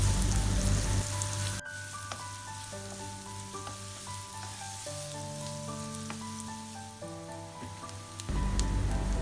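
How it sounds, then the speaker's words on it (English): Chopped onions fry in olive oil with a soft sizzle that is clearest at the start and end, largely covered by background music in between. "Cook the onions till they are lightly brown"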